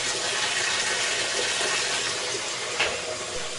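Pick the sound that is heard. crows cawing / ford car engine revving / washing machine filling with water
washing machine filling with water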